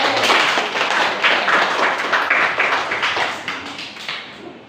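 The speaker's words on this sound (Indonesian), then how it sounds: "Tepuk tangan untuk ini." A school class claps hands together in a dense, lively burst that gradually tapers off toward the end.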